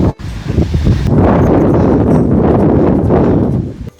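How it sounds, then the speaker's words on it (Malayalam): Strong wind gusting across the red sand dunes of Therikadu near Thoothukudi in Tamil Nadu during a sandstorm, a loud, continuous roar buffeting the microphone from start to finish with no voices. "ഭയങ്കര കാറ്റ്, ഈ മണൽക്കാറ്റ്."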